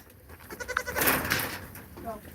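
Nigerian Dwarf goat kids bleat several times in a pen play area, their nasal cries close and mixed with a person talking.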